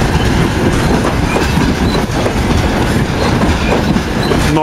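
Freight train wagons, including grain hoppers and gondola cars, clatter past close by in a loud, continuous rush of rhythmic wheel clacking and metallic rattling, with no voices.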